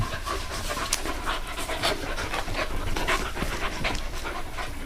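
Eighteen-week-old puppies pant heavily and continuously close by, quick rhythmic breaths with faint scuffling of play, no voices.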